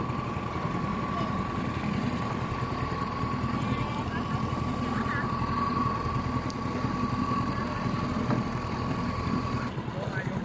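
A small model boat engine runs steadily at a constant, droning pitch with a faint buzzing rattle, moderately close and continuous throughout, with no clear talk over it.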